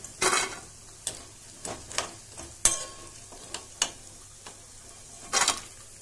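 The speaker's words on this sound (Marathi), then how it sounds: "हे बघा, प्लेटमध्ये काढता बरोबरच त्यांचा आवाज कसा येतो." Crispy fried sabudana and potato bhaji tumble onto a plate, giving a run of sharp, brittle clatters and light rattles spaced irregularly over several seconds, close and fairly soft against a quiet background.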